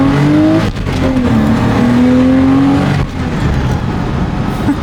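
A 3D-printed Porsche GT3 RS replica rated at 200 horsepower accelerates hard, its loud, steady engine note rising in pitch, dipping briefly near the first and third seconds, then climbing again without any voices.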